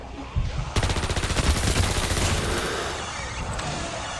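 A machine pistol fires in Call of Duty Mobile zombies mode, a loud rapid burst of closely spaced shots that runs for a few seconds and then trails off into a lingering echo.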